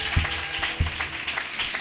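A church congregation at a special annual worship service claps and acclaims, with scattered applause and a few sharp thumps in a loose rhythm, moderately near.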